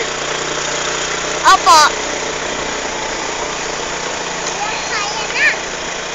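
Motorcycle engine idling after climbing up from a steep spot, a steady close mechanical drone throughout, with a short spoken reply and brief voices over it.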